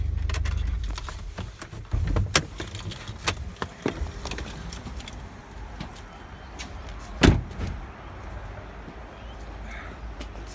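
Someone climbs out of a Nissan Patrol with a 3-litre turbo diesel and opens the hood, heard as low rumble, door thuds, rustling and clicks, with one sharp metallic clunk partway through.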